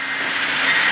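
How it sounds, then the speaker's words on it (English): Amtrak sleeper car from Los Angeles to Chicago rolls past close by, a steady loud broadband rush of wheels and rail noise with faint metallic squeal. "Amtrak sleeper from Los Angeles to Chicago."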